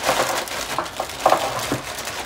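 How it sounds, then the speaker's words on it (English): Blue crabs tumbling into a pot of seafood gumbo, giving a few brief, close crunching and knocking clatters of shell at an uneven rhythm over a low steady background. "we're also gonna add our blue crabs to the mix"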